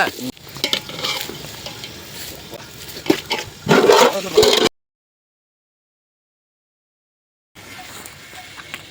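Tomatoes and onions are stirred and fried in a pot during outdoor goat and chicken cooking beside a dam in Karur, a loud sizzle broken by stirring scrapes that cuts off to a silent gap before resuming.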